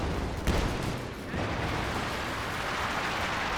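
Grenade explosions in a Company of Heroes 2 match between Ostheer and US forces, a run of dull booms and crackling bursts over a continuous rumble of battle noise.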